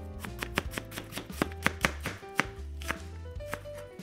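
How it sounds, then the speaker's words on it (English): A knife slices an onion on a cutting board for a vegan katsu curry, giving a close, steady run of crisp chopping strokes with no voices. "Then I'm gonna slice up the onion"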